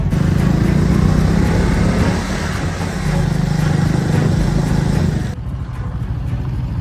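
BS6 vehicles driving over a rough, broken road patch on the way to Rajmachi, a loud close engine drone with rumbling and jolting noise that drops abruptly near the end.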